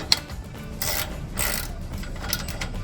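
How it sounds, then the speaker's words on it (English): Ratchet wrench loosening an exhaust clamp on a 2015-2022 Dodge Challenger 3.6L during a cat-back exhaust install, giving a few bursts of close mechanical clicking over steady low background noise. "once that's a little bit looser, I can use the ratchet"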